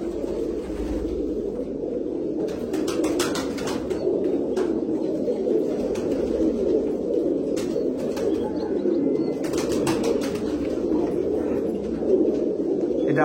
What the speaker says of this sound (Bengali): অনেক সিঙ্গেল পায়রা আমার প্রচুর আছে